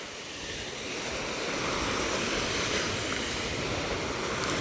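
Steady roar of ocean surf with broad hissing wash, swelling slightly louder after the first second and holding, no voices.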